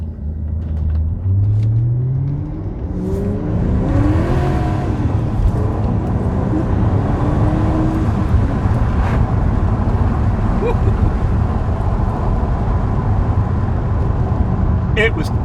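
A 2006 BMW E63 650i with a manual gearbox revs and accelerates hard, its engine rumbling loud and steady with rising pitch sweeps through the gears, recorded from inside the car amid wind and road roar.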